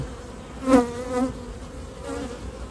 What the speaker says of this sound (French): Beaucoup d'abeilles, tout est nickel.